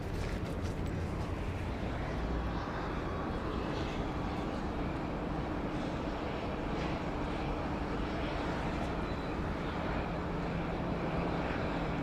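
Virgin Australia airliner, a Boeing 737-800, landing on runway 34 left at Sydney Airport, heard as a steady broadband roar of jet engines and rushing air that holds at a constant loud level throughout, with no voices.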